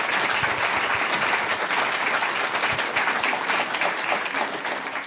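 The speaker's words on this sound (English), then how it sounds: "Another round of applause for these two." Sustained audience applause fills a hall after a talk on race and identity, dense steady clapping throughout with no voices over it.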